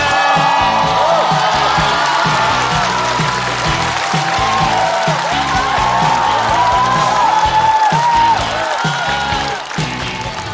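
Loud studio audience at a stand-up comedy show bursts into sustained applause, whoops and cheering as a comedian is welcomed to the stage, a dense roar that holds steady before easing slightly at the end.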